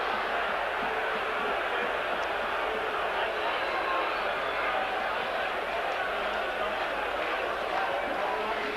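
Rugby league crowd at a Warrington stadium, a steady distant roar of voices that keeps up throughout, with a commentator talking over it.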